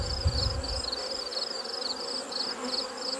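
Honey bees buzz around frames lifted from a first-year backyard hive during honey extraction, a steady layered hum of many wings close to the microphone with a brief low bump near the start.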